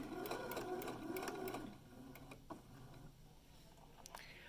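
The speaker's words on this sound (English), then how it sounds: "the machine is going to be pulling a lot more fabric with each stitch" A sewing machine stitches fabric around a drawstring bag, a fast rattling run for under two seconds, then quieter intermittent ticks as it slows and stops, heard close.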